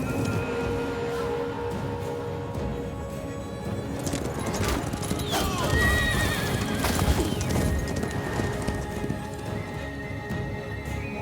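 Horses in the Total War: Attila video game gallop with steady clip-clop hoofbeats and let out whinnying neighs, close and prominent over a dense battle soundscape, with no speech.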